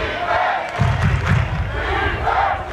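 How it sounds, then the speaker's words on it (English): A home-team crowd at an American football final, Copenhagen Towers vs Swarco Raiders, cheers on its defense, a broad roar of massed voices that swells in the middle and stays steady around it. "You hear the home team crowd is still in the game, cheering on for the defense."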